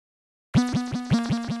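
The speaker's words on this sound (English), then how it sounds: "the last 808 that I threw down is from the Starboyrob and Gokami drum kit," An 808 bass from a Starboyrob and Gokami drum kit plays a slide pattern after a moment of silence: five or six rapid, punchy bass notes, each with a quick pitch glide, loud and dry with no talking.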